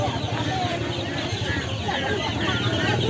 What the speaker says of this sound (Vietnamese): Toàn vịt con các bạn ạ, khu vực này à.